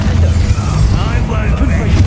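Spell-casting effect in a Harry Potter video game, a disarming charm: a dense, loud low rumble and burst over about two seconds, mixed with shouting voices throughout.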